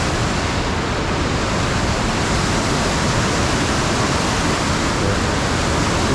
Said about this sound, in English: This is our second waterfall. It's much smaller, but definitely still really cool.